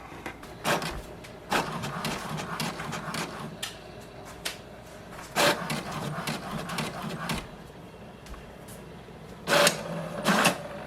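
An HP DeskJet 2755e inkjet printer makes a copy, giving a rhythmic run of mechanical clacks and whirs with louder clunks near the start, middle and end.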